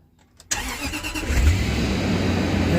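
A right-hand-drive Range Rover engine, just fitted with a replacement starter, cranks and catches after a quiet moment, then settles into a steady, close, loud running rumble.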